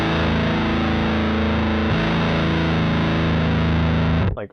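Ibanez high-gain distortion pedal on electric guitar playing the lowest fourths, a thick saturated droning chord with a gritty buzz, loud and sustained, shifting once partway through before cutting off at the end, with no talking.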